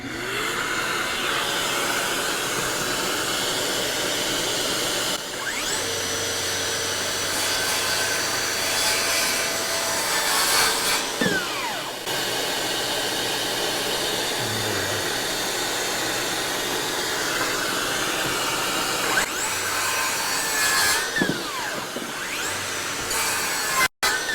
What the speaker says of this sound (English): All right, so we're just gonna cut some MDF here.